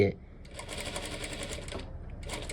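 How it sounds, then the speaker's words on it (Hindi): Sewing machine running steadily while stitching a blouse, a continuous close whirring hum that lasts nearly the whole stretch, with a brief pause near the end. A voice speaks over it at the start. "इसको डबल सिलाई लगा लेते हैं"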